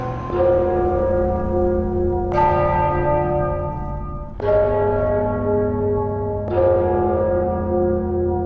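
A church bell in the video game Enderal tolls four times at a slow, even pace. Each loud strike rings out with a long, shimmering decay that overlaps the next. No voices are heard.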